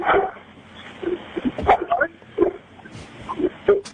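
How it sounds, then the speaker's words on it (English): A pet dog gives several short yips and barks, interleaved with people talking nearby. "My dog."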